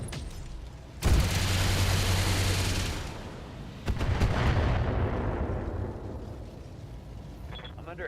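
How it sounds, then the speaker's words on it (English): Heavy weapons fire slams into a mech in the BattleTech video game with the BTA mod: a sudden loud explosive burst rolls into rumbling roar, followed by a second blast and a long, grinding fade. "I'm under heavy fire."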